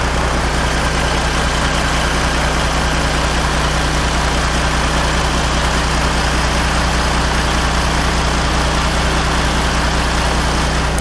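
A Kenworth T800 semi truck's diesel engine idles steadily up close, a loud, continuous low rumble with a constant vibrating throb and no voices.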